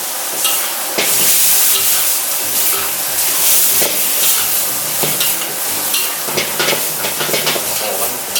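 Squid and holy basil stir-fried in sizzling oil in a hot wok, a steady loud crackle with repeated scraping stirs and clanks throughout, no voices.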